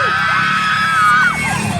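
A crowd yells and whoops at a national costume paradefor a pageant, a dense, loud wash of overlapping high shouting voices sustained across the short stretch.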